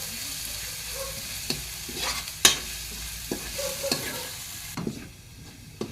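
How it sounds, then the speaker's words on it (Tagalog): Garlic sautéing until golden brown in a pan for a Filipino chicken dish with carrots and potatoes, a steady close sizzle and frying crackle with occasional stirring scrapes and clacks of a utensil against the pan, no talking. "garlic. Igigisa po natin yun. Ipag golden brown nyo po yung bawang"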